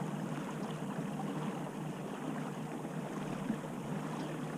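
A Newport Vessels electric trolling motor running steadily on a boat, giving a constant low hum with water and wind noise, continuous and fairly faint, with no talking.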